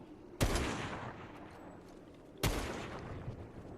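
Two sharp gunshots in a video game, spaced about two seconds apart, each loud with a short echoing tail over a low background rumble.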